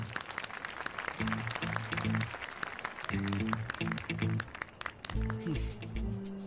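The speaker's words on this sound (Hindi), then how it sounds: "मिस्टर अयास के लिए तालियां होनी चाहिए।" In a Turkish drama scene, a dense patter of applause continues throughout while voices speak over it, with clapping carrying on beneath the talk at a steady level.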